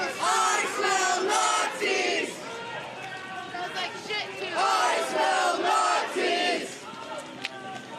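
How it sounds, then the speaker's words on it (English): A crowd gathered in front of federal agents at a cordoned-off scene chants loudly in repeated rhythmic bursts. Shouting voices overlap in a steady, energetic roar that dips briefly between phrases. "the crowd is chanting at these agents"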